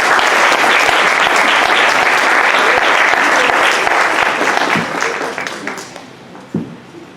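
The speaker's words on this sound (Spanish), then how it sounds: "Y lo despedimos con un fuerte aplauso" Strong audience applause fills a hospital lecture hall after a palliative care talk, with dense continuous clapping that gradually thins and fades toward the end, leaving a few scattered claps.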